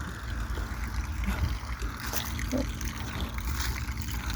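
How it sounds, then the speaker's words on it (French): Water from a public fountain in Lempdes, France, a soft steady trickle and splash heard from nearby, fairly quiet, with no talking over it. "Il y a une fontaine."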